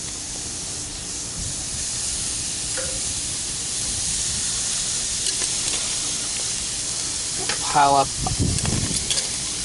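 Edamame sizzles and hisses steadily on a hot salt block set on a grill, a constant close frying crackle, with a short burst of speech near the end.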